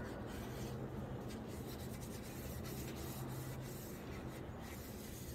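Steady close-up rubbing of finish into a wooden Springfield 1903 rifle stock, a continuous dense scuffing rasp with faint rhythmic strokes throughout and no talk.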